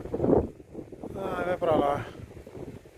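Strong, gusty wind from an approaching tornado roars and buffets the microphone in a dusty open area, with excited voices speaking over it.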